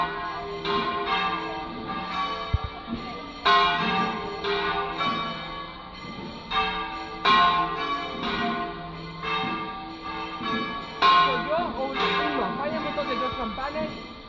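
Church bells of Sant Joan Baptista swinging in full peal, a repeating pattern of bright clanging strokes every few seconds, moderately distant and ringing on with sustained overtones.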